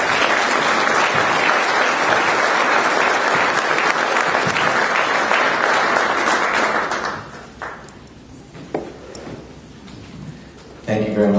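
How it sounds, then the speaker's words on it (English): An audience claps loudly and densely for about seven seconds, then the applause thins to scattered claps and fades to quieter room sound with a few faint noises, ending with a brief sharp sound. "One more round of applause for James, please."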